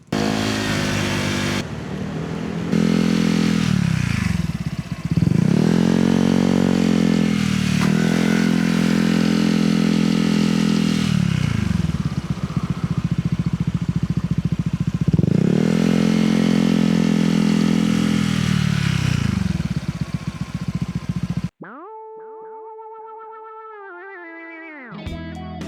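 Honda Giorno scooter with a WE Thailand exhaust pipe riding on the road, loud and close, revving repeatedly to high RPM with rising and falling engine drones before it cuts off near the end, where brief music follows.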